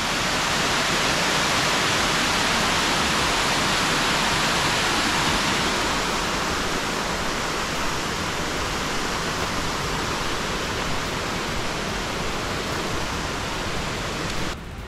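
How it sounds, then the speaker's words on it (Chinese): A fast-flowing stream rushes beside a trail leading up to a waterfall in Puli, Nantou, giving a dense, unbroken roar of water that stays steady and loud throughout, with no voices. "听到旁边那个湍急的水声就知道了"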